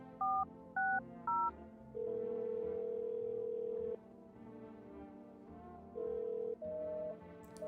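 Dual-tone keypad beeps dialed in a video game, three short paired tones followed by longer steady ringback-style tones, clear and moderately loud with no talking.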